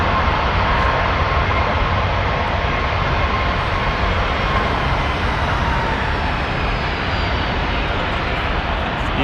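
An airliner lands at Toronto Pearson airport with a loud, unbroken jet roar that stays steady and fairly close throughout, with no pauses.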